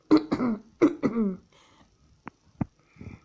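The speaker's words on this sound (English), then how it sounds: "Excuse me for coughing." Several harsh coughs in quick succession, then a couple of short throat-clearing sounds with quieter breathy noises between them.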